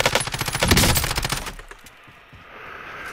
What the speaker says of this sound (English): Great, they're shooting from all buildings.